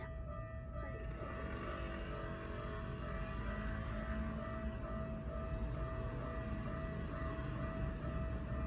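A local train rolls steadily past a railway crossing in Japan, a continuous close rumble with a sustained tonal hum throughout.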